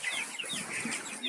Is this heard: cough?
no